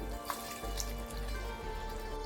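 Water pours steadily into ground masala with chili powder, salt and asafoetida for poricha kuzhambu, a close, even trickle over a low background hum with a few small splashes.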